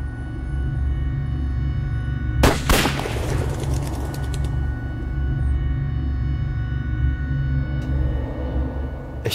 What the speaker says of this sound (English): Das war Platzpatronen, eine Scheinhinrichtung.